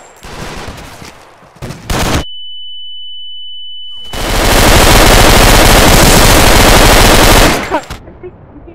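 Gunfire in the tactical shooter Insurgency: short shots, then a steady electronic tone over silence, followed by a long, extremely loud, distorted burst of continuous fire that cuts off abruptly.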